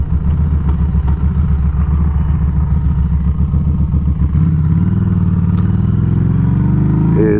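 A Harley-Davidson motorcycle rumbles loud and close while riding, its engine pulsing in a steady low throb that shifts pitch around the midpoint as the rider changes speed, with no talk.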